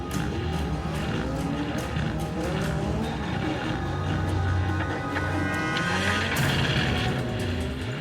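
Formula Vee race cars lapping in a qualifying session, several engines buzzing and revving loudly at once with brief tyre squeals, a dense continuous roar close by.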